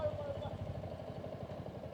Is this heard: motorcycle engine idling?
yes